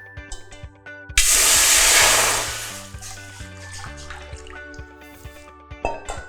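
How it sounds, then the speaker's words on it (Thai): Water pours into a pot for making syrup for Thai foi thong, a loud splashing rush lasting about a second and a half, then tapering off into light drips and trickles. "ใส่น้ำลงไปค่ะ"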